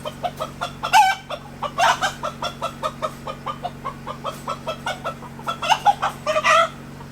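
A 19-week-old black American Bresse chicken clucks close by in a steady run of short, rhythmic clucks, with a few louder squawks breaking in.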